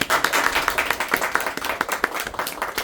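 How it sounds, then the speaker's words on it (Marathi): Audience applause welcoming a friend at a gathering honouring a professor, with steady, dense hand claps rising and falling slightly, moderately loud and close. "आपण टाळ्या बाजून त्याचं स्वागत"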